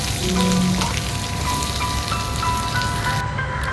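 Ground large onions and shallots sauté in a pan, giving a steady close crackling sizzle with no talking.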